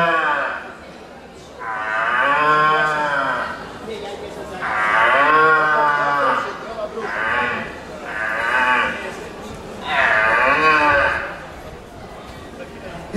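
A man imitates the rutting calls of young red deer stags, which bleat like cows in a pasture: five loud, drawn-out moaning bellows in a row, each lasting one to two seconds with short gaps.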